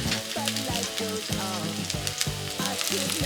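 Korean chive pancake frying in oil over high heat, a steady close sizzle with repeated scraping and stirring clatter of a utensil in the pan, no voices.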